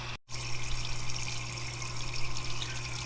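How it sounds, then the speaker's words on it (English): Water runs steadily over the oil pan of a Chevrolet Silverado 4.3 V6 as it is washed, a continuous hissing spray that cuts out for a moment near the start, with a low hum from a nearby pump or machine. "and then we'll wash the oil pan."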